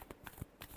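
Tarot cards being shuffled by hand in a few quick riffling bursts, soft and close, with no talking.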